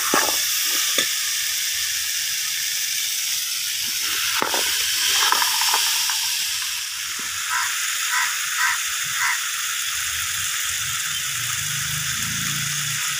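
Mixed vegetables and peas fry in a hot pan for a brinji rice dish, a steady loud sizzle and hiss close up, with a few scraping stirs partway through.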